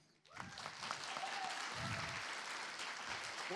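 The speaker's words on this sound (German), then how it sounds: "Großer Applaus für euch." Crowd applause for a presenting group at the Jugend hackt youth hackathon in Munich, clapping rising quickly after a short quiet start into steady, full applause with faint voices underneath.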